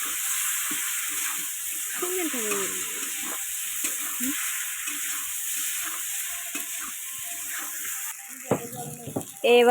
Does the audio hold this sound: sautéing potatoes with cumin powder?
yes